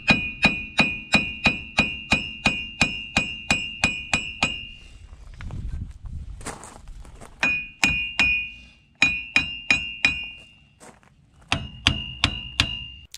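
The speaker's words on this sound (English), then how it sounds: "I'm getting it with just the hammer and chisel back at that where it sits against the knuckle" A hammer driving a chisel against the front axle shaft of a 2015 Ram 2500 4x4 at the knuckle: bursts of sharp, ringing metallic clangs in quick even rhythm, separated by short pauses, loud and close.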